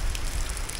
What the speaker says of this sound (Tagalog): Tuloy-tuloy pa rin ang ulan dito sa Barangay Anib,